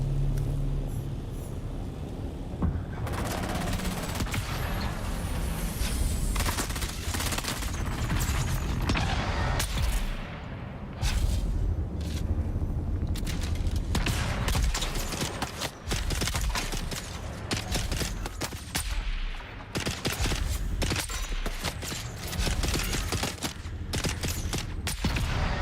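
Rapid bursts of video game gunfire from a weapon at a testing station, loud and dense, firing in frequent clusters with brief gaps throughout, with no talk over it.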